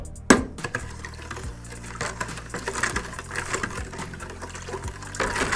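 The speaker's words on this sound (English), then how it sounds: "Now with a sanitized spoon, we just want to give that a good stir until it's all combined." A sanitized spoon stirring a wine mix of fruit juice, enzyme and tannin in a plastic bucket, steady scraping and knocking strokes with light liquid swishing, close and fairly loud.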